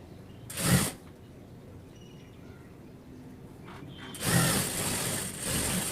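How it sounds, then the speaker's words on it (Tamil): A sewing machine runs in two short bursts while stitching a chudidar seam, each a close, fast mechanical whir separated by quieter handling noise. "நம்ம மேல் பக்கம் ஸ்டிச் பண்ண மாதிரி அப்படியே கீழ் பக்கமாக ஸ்டிச் பண்ணிக்கிட்டே வர்றோம்"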